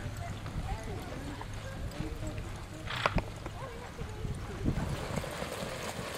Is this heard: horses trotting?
yes